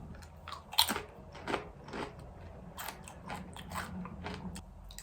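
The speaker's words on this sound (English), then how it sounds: "I've been munching on these chips for a few minutes now" Crunchy munching on Bull's-Eye Kentucky Habanero with Whiskey potato chips, irregular close-up bites and chewing crunches with pauses between, no talking.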